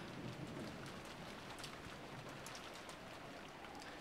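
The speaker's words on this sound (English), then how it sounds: "no music and only the sound of, like, the storm" Steady heavy rain pours with a low thunder rumble beneath it in the visual novel Umineko: When They Cry, a constant wash of sound, fairly faint and without voices.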